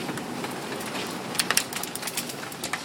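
Hail rattles down during a thunderstorm, a steady hiss of falling ice broken by sharp, irregular clicks and knocks of larger pieces striking nearby surfaces.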